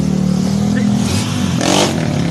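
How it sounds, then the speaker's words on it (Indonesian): A smooth-sounding motorcycle exhaust drones steadily up close, then gives one short rev that rises and falls near the end. "Ini knalpot sehalus gini aja tuh udah kayak bisa jadi masalah gitu."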